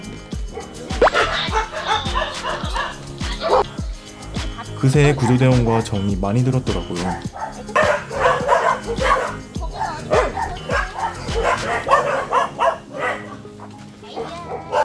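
Rescued dogs from a Seoul dog meat farm, now at an adoption center, bark and yip excitedly with occasional whimpers, close and loud, mixed in with ongoing talk from people greeting them.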